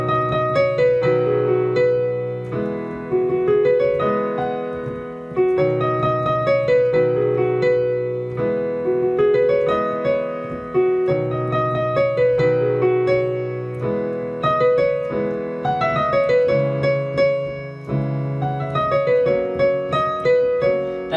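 Solo piano playing a song, melody over sustained chords in a slow repeating four-part phrase, clear and close with no voices.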